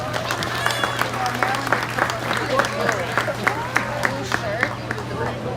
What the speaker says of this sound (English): let's go ahead and give these kids a nice round of applause